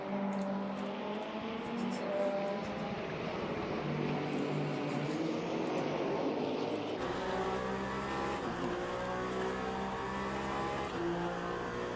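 GT3 race cars in a racing video game at Interlagos, engines droning and revving steadily together at close range, a continuous layered roar with a gear shift or change in pitch partway through.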